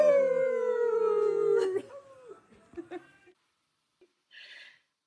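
Several people howl together in imitation of huskies, long sustained voiced wails rising and falling for about two seconds, then breaking into scattered yips and laughter before trailing off into silence.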